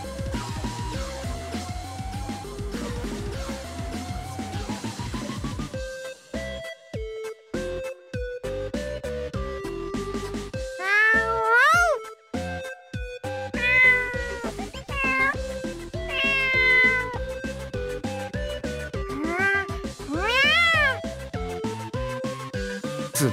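A cat meows repeatedly in the video game Tokyo Mirage Sessions #FE, with several distinct, rising and falling cries standing out over steady game music and tones.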